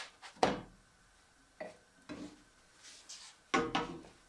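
Pita-style flatbreads flipped in a frying pan over medium heat: a few scattered, light scraping and tapping knocks of utensil against pan, spaced irregularly, fairly quiet and close, with no voices.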